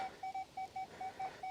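A Minelab Manticore metal detector gives a target tone outdoors: a series of about eight short, clear, high electronic beeps repeated in a quick, even rhythm over faint background hiss.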